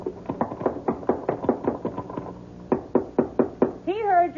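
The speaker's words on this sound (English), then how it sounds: "You get to the top, just bang on the trap door" A fist bangs hard on a wooden trap door in an old-time radio mystery drama, a run of heavy, close knocks in quick groups of two and three with a short pause, followed by a voice.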